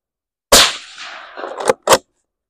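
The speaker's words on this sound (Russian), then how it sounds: "Вот точку вижу, выстрел." Rifle shot fired while aiming through an IRS-635-LRF thermal scope, a single sharp loud blast with a short ringing tail, followed by a quick mechanical clack.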